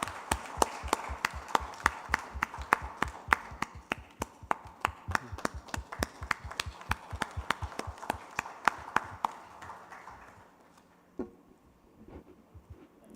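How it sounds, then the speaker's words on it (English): At a business conference, a small audience claps loudly in a steady, evenly spaced rhythm of distinct hand claps for about ten seconds before thinning out to a few stray claps and near silence. "let's give a huge round of applause to sir"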